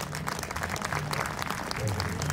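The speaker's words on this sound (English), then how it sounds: "A huge round of applause for him," Audience applause at a college inauguration ceremony, a steady wash of clapping from a crowd filling the hall, with faint voices and a low hum underneath.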